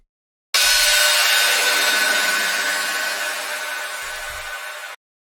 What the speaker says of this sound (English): I have a downlifter sound, for example, an FX sound